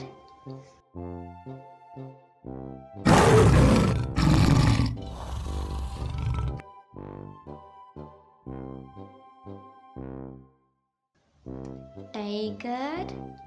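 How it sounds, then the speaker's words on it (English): A tiger's loud, rough roar bursts out over several seconds, standing clearly above a steady musical background that continues before and after it. "tiger,"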